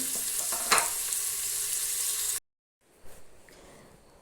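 Cardamom, cinnamon and cloves hit hot oil for an egg kurma, a loud crackling sizzle that cuts off abruptly, then quieter spitting and stirring.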